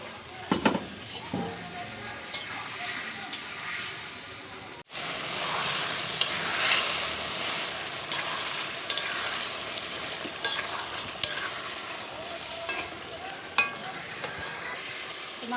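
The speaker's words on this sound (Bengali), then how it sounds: "মাংস তো ভাজা হয়ে গেছে, মশলাও কষানো হয়েছে," Meat frying with spices in a pot for an Eid home-cooked dish, giving a steady soft sizzle and hiss throughout, fairly quiet, with occasional light stirring clicks and scrapes.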